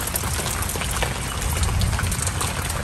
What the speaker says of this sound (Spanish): hoy amaneció llueve y llueve, y con muchos relámpagos, truenos